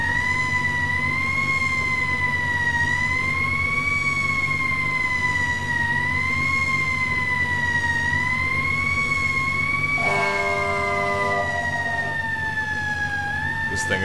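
Fire truck sirens in the emergency-response video game EmergeNYC wail loud and continuous, rising and falling steadily, joined near the end by a second horn-like blast layered on top.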